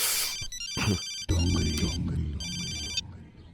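A telephone ringtone trills in repeated electronic bursts, close and loud, with a brief low thud and rustle between rings and no talking.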